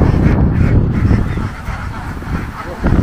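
A large flock of laying ducks in the Mekong Delta countryside is herded back from the fields to the pen, loud honking and quacking calls massed close by, with voices talking over them.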